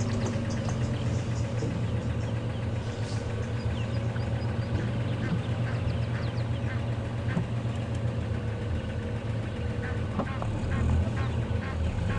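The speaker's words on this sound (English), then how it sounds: "I can hear the geese calling us" Geese call repeatedly from the water during a sunrise safari drive, quacking and honking over the constant low rumble of an idling vehicle engine, with faint voices in the background.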